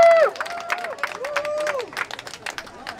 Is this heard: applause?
yes